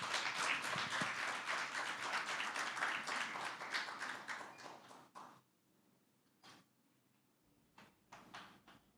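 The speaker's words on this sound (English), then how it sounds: "A round of applause" Enthusiastic audience clapping at an awards breakfast fills the first five seconds, then stops abruptly, leaving a few scattered claps and short bursts in near silence.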